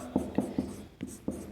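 An equation is handwritten, giving a few short, soft scratches and taps of pen or chalk in a quick uneven rhythm, close and quiet.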